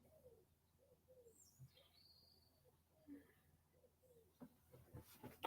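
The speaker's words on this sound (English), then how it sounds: "Birds tweeting." Birds chirp and coo faintly outdoors on a snowy afternoon, a few soft calls spread across a quiet background with distant sounds.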